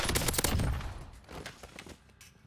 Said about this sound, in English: Can you hear all the gunshots and everything?